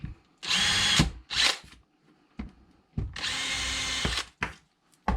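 A power drill fitted with a 1.5mm bit bores shallow pilot holes for Euro cabinet hinges, whirring loud and close in two short bursts, then a longer one, with clicks and quiet gaps between.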